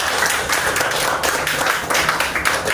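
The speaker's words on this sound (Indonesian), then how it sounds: "Tepuk tangan dulu untuk kita semua" Students in a classroom clap their hands together, a loud, dense burst of many quick claps sustained evenly from start to finish.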